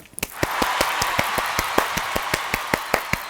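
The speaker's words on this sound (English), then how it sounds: "Let's applaud them" Applause from a small group, with dense clapping rising quickly and holding steady at close range, with a few louder individual claps punctuating the wash of hands.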